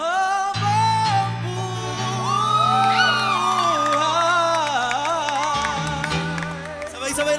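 A worship congregation at a live Filipino praise service shouts Amen and Hallelujah, a loud crowd of voices whooping and cheering over sustained music for several seconds.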